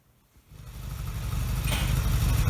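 A Yamaha XS650 motorcycle engine, carbs refitted and fuel tank temporarily hooked up, runs without choke, starting quiet then rising into a steady close idle rumble.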